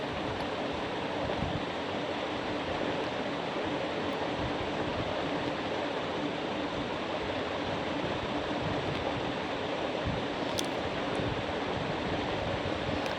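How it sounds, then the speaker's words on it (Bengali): Fish curry broth with green chillies boiling in a pot, a dense, steady bubbling roar heard close and unbroken, with no voices. "ঝোলটাকে আর একটু ফুটিয়ে নিচ্ছি"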